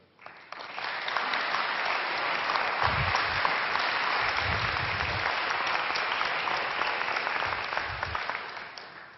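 An audience applauds steadily for several seconds, a dense, even wash of clapping from a large crowd with no talking.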